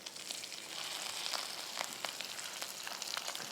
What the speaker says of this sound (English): That sizzle is amazing.